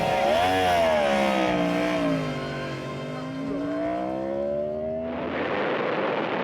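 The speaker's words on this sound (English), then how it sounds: "with nearly 200 horsepower, the R1 doesn't take long to get into its stride" 2015 Yamaha R1 superbike of nearly 200 horsepower accelerating on a race track, engine pitch climbing through gear changes up close before a sudden roaring rush as it passes.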